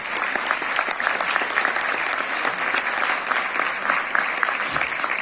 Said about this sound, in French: On peut encore les applaudir, hein.